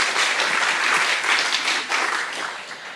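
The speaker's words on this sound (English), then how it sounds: "give one more round of applause for Team SDA" An audience applauds Team SDA after a talk at a scientific conference challenge session, sustained dense clapping from many hands that fades slightly toward the end.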